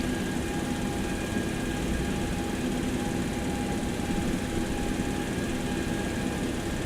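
Boeing 727 jet engine number 2 spools up during a ground start, heard as a loud, continuous roar and whine with steady broadband noise, likely from inside the aircraft.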